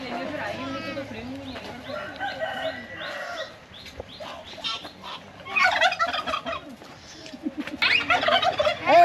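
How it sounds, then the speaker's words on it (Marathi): Turkeys gobble in a pet zone at a safari park, giving repeated rattling calls at close range mixed with other fowl clucks, while people talk over the birds. "कसं वाटतं बघा टर्की."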